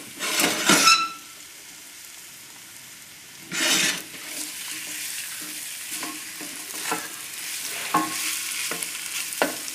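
Flour-coated shrimp fry over a high flame, with a steady sizzle and two loud bursts of hissing spatter, plus occasional stirring scrapes in the pan.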